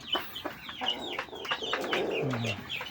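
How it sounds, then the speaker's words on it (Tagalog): Native Philippine heritage chickens clucking on a small farm, a close mix of short clucks and chirps that overlap in a busy, steady flock chatter. "Ito sila, mga heritage chicken po."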